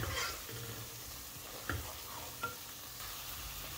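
Mrigal fish masala with onions being stir-fried in a pan: a steady sizzle runs throughout, broken by a few sharp spatula scrapes and clinks. No voices are heard.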